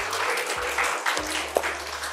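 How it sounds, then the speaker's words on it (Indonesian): A studio audience claps in a dense patter of applause that carries steadily for a couple of seconds, fairly close and loud at the end of a segment of an Indonesian entertainment talk show. "Boleh tepuk tangan sekali lagi."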